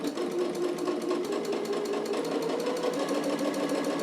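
A sewing machine runs a steady stitching pass on a French seam at a 1/4 inch seam allowance, its fast even whirring hum continuing close and loud without pause.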